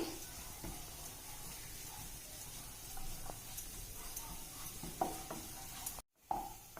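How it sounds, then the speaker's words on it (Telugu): Fish fry in a spoonful of oil on a non-stick pan with a soft, continuous sizzle and hiss, broken by occasional faint clinks and stirring scrapes; the sound is quiet and steady, briefly cutting out near the end. "ఇలా బాగా ఫ్రై అయ్యాయి చూసారా, కరకరా అంటున్నాయి"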